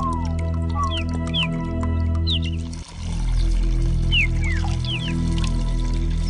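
A desert spring in Sinai trickles and drips steadily at close range under a low hum, while birds chirp clearly in repeated short calls above the water sound, and no one speaks.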